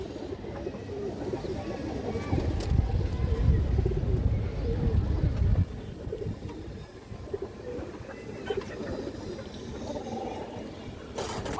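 Female pigeon cooing, a soft low throaty warble that rises in the middle and fades, heard close among other birds with someone talking over it.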